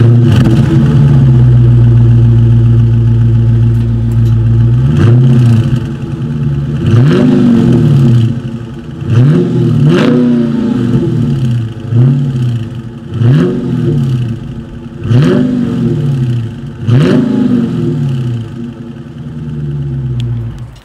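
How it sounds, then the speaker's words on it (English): A 2020 Dodge Charger Scat Pack's dual exhaust idles with a deep rumble, then is revved repeatedly in sharp bursts, each rise and fall roaring loudly and close. "Dual exhaust outlets with chrome tips, so I think you guys know what is coming next."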